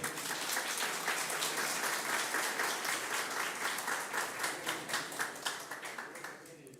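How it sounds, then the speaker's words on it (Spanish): A crowd applauds steadily, dense clapping that swells and then thins into scattered claps toward the end, with some faint voices underneath. "un aplauso para ellos"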